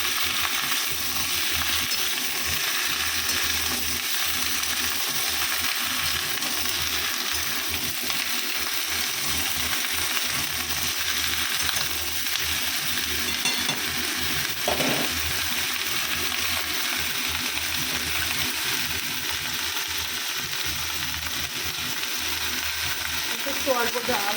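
Cut taro, pumpkin, snake gourd, potato and eggplant frying in a pan as they are stirred, a steady broadband sizzle running throughout with occasional clinks of the utensil against the pan, close and continuous.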